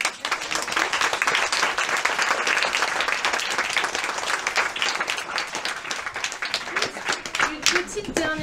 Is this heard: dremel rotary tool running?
no